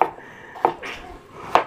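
Knife chopping a potato on a board, three sharp separate cuts spaced unevenly, close and fairly loud with quiet gaps between.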